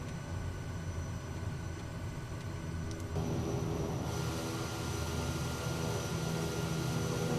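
Steady drone of a simulated Daher Kodiak 100 single-engine turboprop taxiing on tundra tyres in Microsoft Flight Simulator, the engine hum loud and continuous, shifting slightly in tone midway, with no voices.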